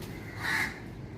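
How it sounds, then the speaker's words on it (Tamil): A single crow caws once at sunrise, a short harsh call rising briefly above steady outdoor background noise. "காக்கா"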